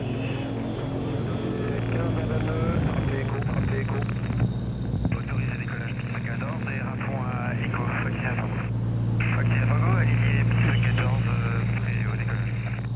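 Aircraft engine drone inside a plane flying to the remote French island of Europa, a steady low hum that runs the whole time beneath continuous narration.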